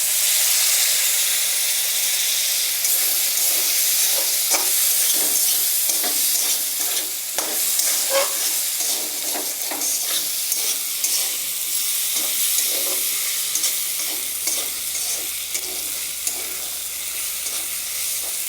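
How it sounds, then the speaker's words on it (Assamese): Ginger and cumin fry in a pan: a loud, continuous sizzle and hiss with frequent small stirring clicks and scrapes throughout, and no voices. "এইখিনি অলপ সময় ভাজিম।"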